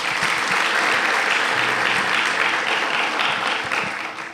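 Audience at a youth winter camp gathering applauding themselves, a loud, sustained wall of clapping that holds steady and tapers slightly at the end.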